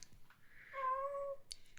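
A pet cat gives a single drawn-out meow indoors, faint and close, with a few small clicks around it and no talking.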